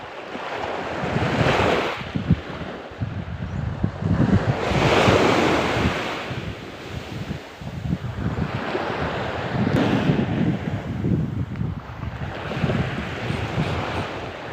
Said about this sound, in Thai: ดูลมดิครับ